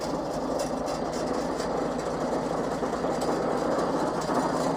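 A loud, rough Oliver Super 77 tractor engine running steadily nearby, a continuous low chugging rumble with mechanical rattle and no pauses.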